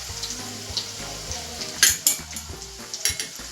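Chili powder and cumin sautéing in a pan for a Gujarati potato bhaji, giving a steady close sizzle with soft stirring scrapes and a few sharper crackles and utensil clinks, no voice.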